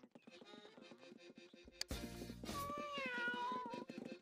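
A cat meows repeatedly in The Sims game, with a rising, drawn-out cry after a loud burst of other game sounds, set against soft background game music.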